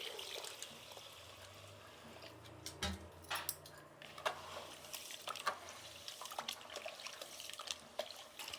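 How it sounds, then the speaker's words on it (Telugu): Ragi and rice being washed in water by hand, with soft sloshing, swishing and trickling sounds plus occasional splashes and drips, close up and alone without speech. "ఇప్పుడు ఈ రాగులు బియ్యాన్ని కడుక్కునేస్తాము."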